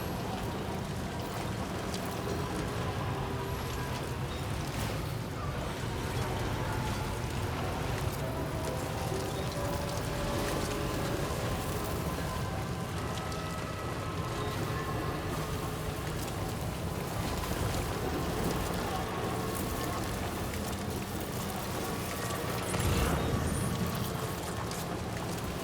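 Heavy rainfall from Death Stranding 2 pours steadily for the whole stretch, a broad constant wash of droplets with a low rumbling bed and a brief louder swell near the end.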